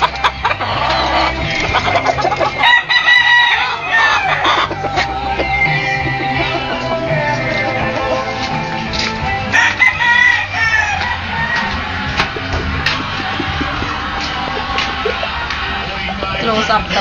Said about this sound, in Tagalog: So, nakikita nyo po, ang dami pong manok dito.